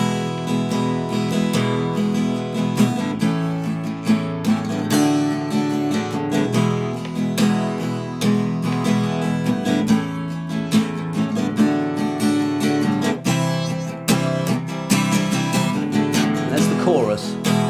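The outro of a song is played as a full-band arrangement, steady and loud with strummed chords and driving rhythm throughout, no talking over it.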